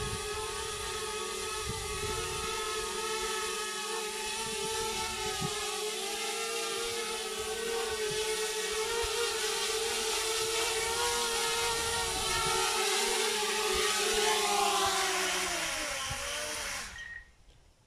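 A DJI Spark drone flies in the wind, giving a steady high-pitched whirring buzz with multiple tonal layers that holds loud and constant before winding down abruptly at the end, with no talking.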